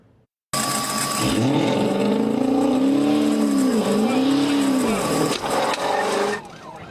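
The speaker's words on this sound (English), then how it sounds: "the car whips around the intersection to turn around" A car speeds and whips around an intersection, its engine loud and close with rising and falling revs and a tire squeal, heard from a dash camera.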